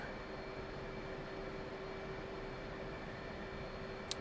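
Twin jet engines of an F/A-18C idle in the DCS World flight simulator, a steady even whine and rumble holding at one level throughout, with a brief click near the end.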